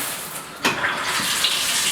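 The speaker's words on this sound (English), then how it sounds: "check the shower, again for hot water, and make sure that there's enough water pressure" A household shower runs steadily, a broad hiss of water spraying and splashing, with a brief louder burst as the flow shifts partway through.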